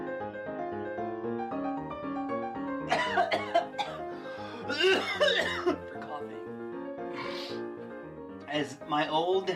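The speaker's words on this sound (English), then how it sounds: "after a good, solid coughing fit" A man with a deep voice breaks into a rough, hacking coughing fit in several bursts and clears his throat between spells of talking, recorded close on a microphone with a low musical bed underneath.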